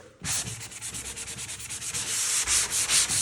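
Hand sanding drywall: steady, close scratchy rubbing strokes in a quick repeating rhythm, growing slightly louder toward the end, with no talk.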